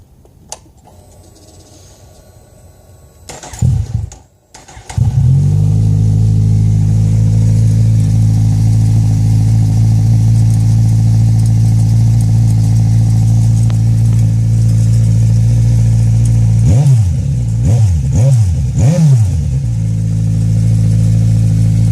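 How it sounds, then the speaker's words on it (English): Kawasaki Z1000 motorcycle with mufflers removed and aftermarket headers: after brief clatter the engine fires up and idles loud and raw, then blips through several sharp revs near the end before settling back to a rough idle. "everybody wanna hear how it sounds like with no mufflers on it"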